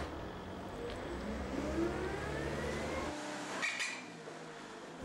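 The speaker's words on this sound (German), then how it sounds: "Setzen Sie den Wagen mal zurück." A car reversing a short distance on a farm field, its engine a steady close rumble that cuts off after about three seconds and is followed by a brief whining rise, with no talking.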